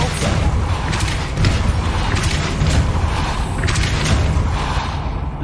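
A Depulso force spell from the Hogwarts Legacy video game lands as a dense, continuous burst of heavy thumps and mechanical rumbling, loud and close throughout.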